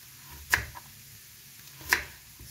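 Two sharp knife chops through red-fleshed radishes on a cutting board, spaced about a second and a half apart, close and crisp against a quiet background.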